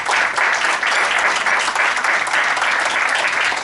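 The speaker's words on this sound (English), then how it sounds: "So give yourself a round of applause" Steady, loud applause fills an awards banquet for a college soccer team, sustained crowd clapping throughout with no pauses.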